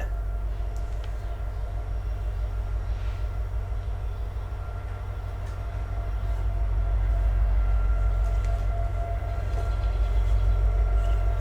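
Low rumbling of trains rolling past, a steady heavy drone with rhythmic rail clatter that swells louder toward the end.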